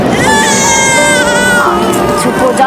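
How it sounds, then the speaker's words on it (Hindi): A baby cries loudly and close by in one continuous, wavering wail lasting a few seconds, with some background noise. "बच्चे की रोने की आवाज।"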